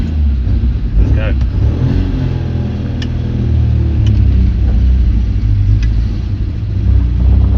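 A supercharged MGB engine, running with its supercharger belt off and stuttering, revs loud and close in a rumbling drone while people talk over it.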